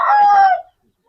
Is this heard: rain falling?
no